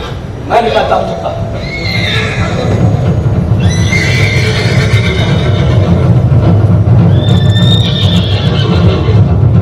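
Horses neigh repeatedly and loudly in a chariot scene of a Hindi stage play, several drawn-out whinnies rising over a steady low rumble of background noise.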